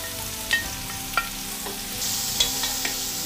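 Ground beef fries with garlic and onion in oil for spaghetti, a close, steady sizzle punctuated by several distinct spatula scrapes and clinks as it is stirred.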